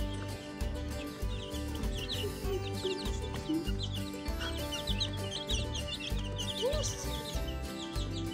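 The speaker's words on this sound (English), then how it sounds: "So now we can put the chicks in and see how they like it." Many small chicks peeping and chirping rapidly, close by, over a steady low hum.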